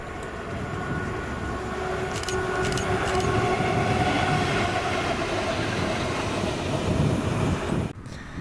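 Freight train 6S31 rolls steadily past, locomotive 78.814 hauling three Coalfish wagons in Scotland, a continuous loud rumble with faint clanking and a brief tonal whine, ending with a sudden dip near the close.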